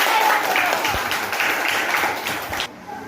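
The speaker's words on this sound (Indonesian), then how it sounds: "sekali lagi tepuk tangan" A class of schoolchildren in a classroom claps steadily for a few seconds, dense and loud, then the applause cuts off abruptly into quiet.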